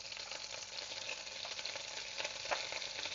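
Cinnamon, cloves and cumin fry in a few spoons of hot oil with a little butter, a faint, steady crackling sizzle with small pops throughout.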